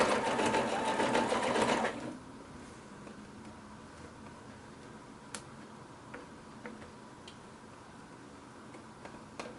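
A sewing machine stitches quilt binding in a short loud burst of rapid mechanical whirring lasting about two seconds, then stops, leaving quiet room tone with scattered light ticks and clicks.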